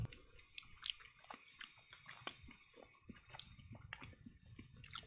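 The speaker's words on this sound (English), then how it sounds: "We don't want to hear a man chew" A man chews crumbly cheese on a cracker up close, giving quiet, wet crunches and soft clicks in an irregular rhythm over about five seconds with no talking.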